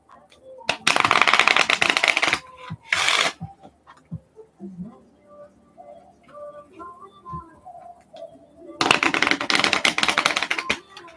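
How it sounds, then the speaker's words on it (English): A Lenormand card deck being shuffled, with two long bursts of rapid riffling clatter at the start and again near the end, and quieter handling and faint background sounds in the gap between them. "Let me shuffle them up real well, though."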